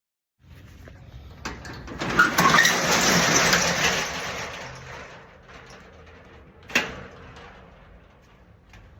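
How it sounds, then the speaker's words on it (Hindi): A metal rolling shutter at a bike shop is pulled down with a long rattling clatter, then fades, followed by a sharp metallic clack as it is locked. "तो मैं फाइनली शटर को लॉक करता हूँ यहाँ पे"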